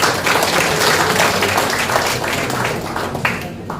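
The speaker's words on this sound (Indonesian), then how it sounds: "Tepuk tangan buat beliau." Audience applause at a formal Lemhannas gathering in Indonesia, a dense wash of many hands clapping steadily throughout, fairly loud and close, easing slightly toward the end.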